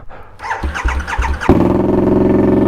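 A crimson red 2021 Harley-Davidson Sportster S with a TBR exhaust starts with a few cranking chugs, then catches and settles into a loud, close, deep throbbing idle rumble.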